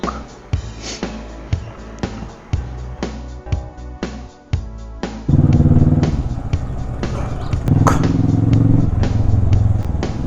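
A motorcycle is wheeled out and fired up at a stopover in Hunder before a ride to Pangong Lake; clunks and handling noises come first, then the engine kicks into a loud, steady idling rumble that holds to the end.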